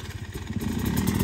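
A Kawasaki dirt bike engine takes a little throttle, a short mid-pitched motorcycle engine burst rising slightly in intensity with a rough clattering idle tone, heard close and fairly faint.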